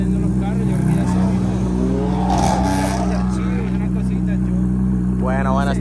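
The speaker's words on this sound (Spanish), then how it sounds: "estos motores suenan demasiado duros" Loud car engines roar and rumble steadily as cars depart from a gathering, a dense, continuous engine drone with some revving, while people talk over the noise.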